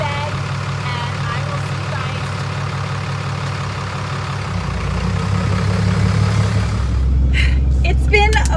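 A newly picked-up truck's loud engine running in a steady low rumble that grows heavier and louder partway through, with some brief sharper noise near the end and no clear talk.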